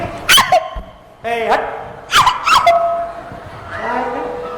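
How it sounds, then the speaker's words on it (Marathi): Dogs bark and yip in sharp bursts loose indoors during a stage comedy show, close and loud, with short whimpering cries between barks. "कुत्री कुणी आत सोडली"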